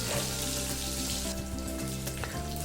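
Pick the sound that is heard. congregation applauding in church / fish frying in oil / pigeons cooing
fish frying in oil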